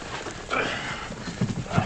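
Horse hoof clops on hard ground, a few irregular steps close by, with faint voices and background noise.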